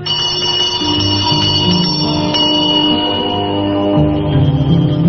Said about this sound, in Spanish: mientras hace sonar una pequeña campanilla